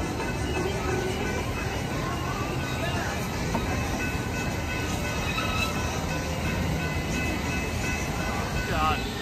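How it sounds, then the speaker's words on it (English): An amusement park train at Kennywood Park rolls past in a steady, continuous rumble and clatter, with people talking over it throughout. "And a train crossing coming through."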